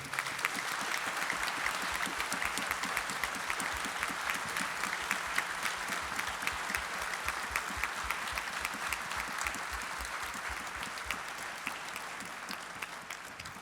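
Audience applause at a festival concert, a long steady clapping with distinct individual claps audible, moderately distant and easing slightly toward the end.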